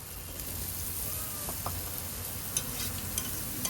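Diced new potatoes tumbled into spiced masala in a pan, giving a steady soft sizzle with occasional stirring scrapes and clinks, close and moderately quiet throughout.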